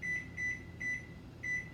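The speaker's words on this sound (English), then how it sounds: "I will put the timer on" A kitchen timer being set while a covered pan of tamales simmers on the stove, giving four short, clear electronic beeps in an uneven rhythm over a low kitchen background hum.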